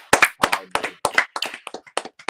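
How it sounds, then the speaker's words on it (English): A quick round of applause from a few people, sharp claps in an irregular burst lasting about two seconds, close and fairly loud, with no talking over it. "give God a round of applause"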